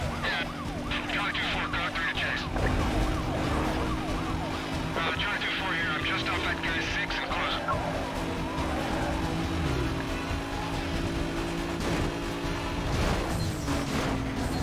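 Police car sirens wail continuously in a Need for Speed: Most Wanted street race, repeated rising and falling tones over steady engine drone, with speech-like sounds mixed in.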